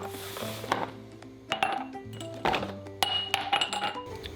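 Glass canning jars clinking as they are filled with homemade apple sauce, several sharp clinks and taps spaced out in an irregular rhythm, close by with no talking.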